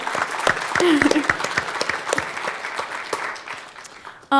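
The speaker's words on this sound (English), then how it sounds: "Let's give them one more round of applause because they were so amazing." Audience applause at the close of a panel event on religious persecution, a dense patter of many hands clapping for about four seconds, gradually thinning out.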